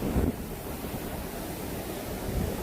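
Strong gusting wind battering the microphone on the coast in the aftermath of Hurricane Dorian at Atlantic, Carteret County, a steady rough roar with surf-like rushing, fairly faint overall and no voices.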